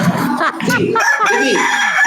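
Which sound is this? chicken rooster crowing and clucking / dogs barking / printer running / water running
chicken rooster crowing and clucking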